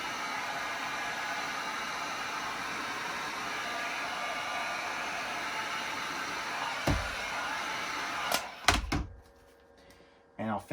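A heat gun blows a steady, loud hiss of air while warming the vinyl graphics wrap on a Pro Boat hull, cutting off near the end with a few knocks and handling sounds; someone talks briefly over it.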